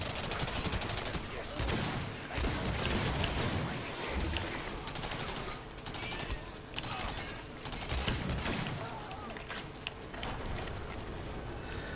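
Seeker weapon fire in the video game Singularity: dense, continuous bursts of gunfire and impacts that fill the whole clip loudly, layered with game effects and some faint speech underneath.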